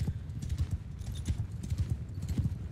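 Horses gallop in the medieval battle game Bannerlord, with a mounted group of horse archers riding close together. Steady, loud, overlapping hoofbeats drum without pause throughout, with only faint hints of talk beneath.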